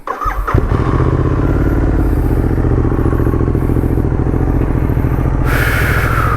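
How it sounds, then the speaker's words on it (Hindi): A Royal Enfield GT650 motorcycle engine cold-starts with a brief starter crank, then settles into a loud, steady, close idle that carries on without any talk. "चलो बाइक को देते हैं कोल्ड स्टार्ट।"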